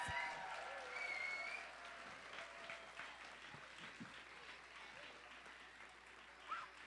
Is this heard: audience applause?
yes